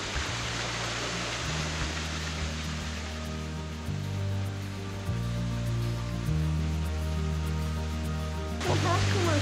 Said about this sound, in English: there's still a waterfall running in Death Valley